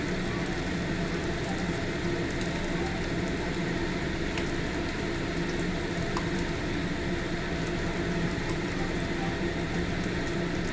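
Chhana bora, fried cottage-cheese fritters, bubbling in hot oil, giving a steady, even sizzle and crackle that carries on without a break at close range, with no one speaking.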